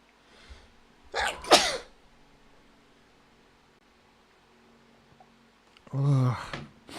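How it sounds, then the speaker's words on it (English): Two sharp, loud sneezes, one early and one near the end, separated by quiet. "Oh, I need to sneeze now."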